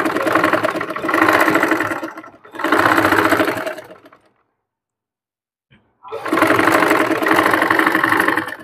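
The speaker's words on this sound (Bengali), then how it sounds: "তো লেসটির উপর দিয়ে আমি সেলাই দিয়ে নিয়েছি" A sewing machine stitches over lace in two long steady runs, pauses in near silence, then starts up again, its motor whirring loud and close with a fast, even mechanical rattle.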